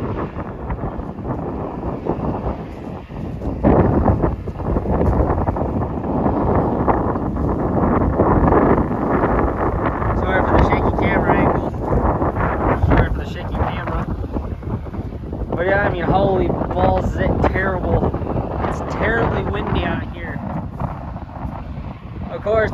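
Wind gusts steadily across the microphone outdoors by a creek lined with nearly bare trees, a constant low rumble that runs the whole time beneath someone talking.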